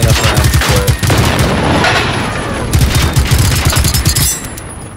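Rapid bursts of automatic gunfire and booming impacts fill the clip as robots are shot during a firefight in the video game Generation Zero, loud and nearly continuous.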